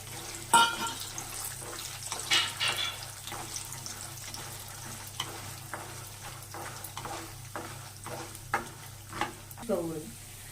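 Peanuts frying in oil with tempering seeds for pulihora, stirred in a pan: a steady low sizzle broken by repeated scraping stirs and clatters, close by, with no talk.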